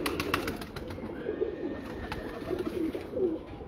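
Teddy pigeons at a breeder's loft coo softly and steadily, several birds overlapping in low, rolling calls against a faint background hiss.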